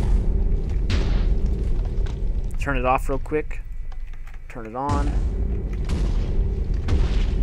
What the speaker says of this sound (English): the explosion won't hurt you